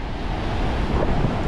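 Ocean surf breaking over a sandbar on a beach, a loud continuous roar of waves mixed with heavy wind buffeting the microphone, with no voices.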